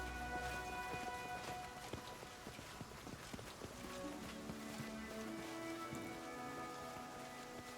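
Steady rain falls across an outdoor scene in the video game Pathfinder Kingmaker, a dense continuous patter with clip-clop-like footsteps and tonal game sounds layered over it, with no talking.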